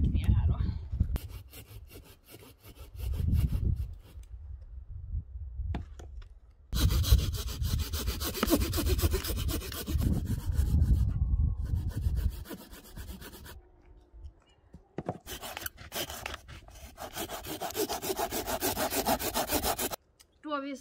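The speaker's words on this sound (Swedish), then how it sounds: "Och sen så ska vi såga ett jack ner här då." A hand saw cuts notches into a log for a Swedish torch outdoors, giving close, steady back-and-forth rasping strokes in long runs broken by short pauses, with some talking.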